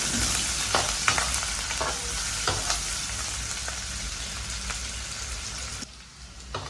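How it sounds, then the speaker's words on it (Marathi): Onion sizzling and frying in spices for mutton masala, a steady dense crackle with occasional stirring scrapes, close and loud, ending in a brief near-quiet moment. "आता आपण याच्यामध्ये कांदा टाकूया चांगला गुलाबी होईपर्यंत आपण याला परतून घेऊया"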